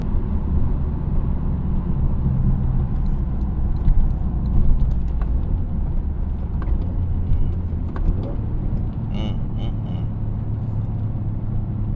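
Toyota GR Corolla engine droning at night under steady road rumble, its low growl rising and falling through gear changes at close range with a few faint clicks.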